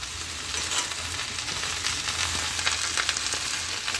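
Garlic sizzles in hot oil with groundnuts and capsicum, a loud, dense, close crackling hiss with faint stirring that holds steady throughout, with no talking.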